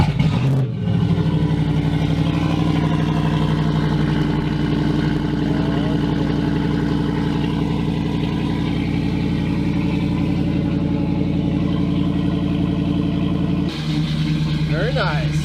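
Dodge Ram 1500 Hemi V8 engine idling steadily after a cold spring start-up, a loud continuous low rumble with a brief revving burst near the end.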